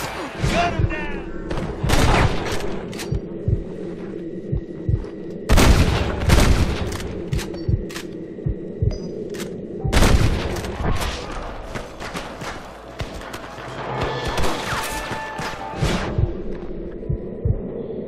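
A shootout in the video game Red Dead Redemption brings scattered gunshots and booming reports in irregular bursts, mixed with shouted dialogue and background game audio.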